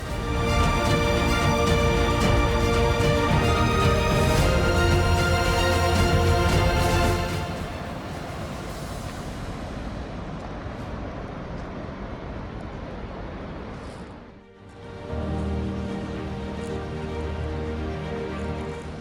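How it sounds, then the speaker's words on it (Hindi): Distant river in the Parvati Valley, a steady broadband roar of rushing water that eases after a while, briefly dips, then swells again. "और नदी की भी काफ़ी ज़ोर से आवाज़ आने लग रही है"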